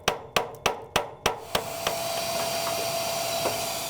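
Ash is scraped and knocked loose inside a Harman Accentra 52i pellet stove insert: six sharp metallic taps in quick succession, then a steady vacuum hiss with a couple of faint knocks.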